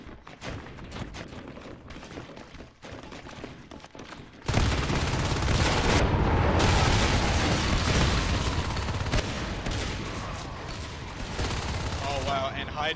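Gunfire in the sci-fi shooter Natural Selection 2, with scattered shots at first, then dense, sustained automatic fire bursting in loudly and continuing under a commentator's talk.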